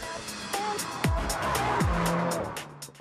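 A Mini John Cooper Works brakes, downshifts to second and accelerates, the engine blipping and revving in quick swoops up and down, then pulling hard, loud and close.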